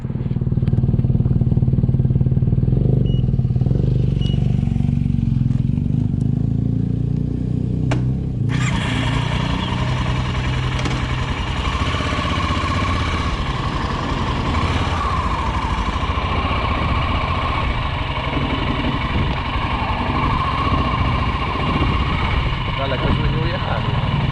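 A BMW F650 Funduro motorcycle idles, then revs up loudly and pulls away, its steady engine roar filling the rest of the stretch.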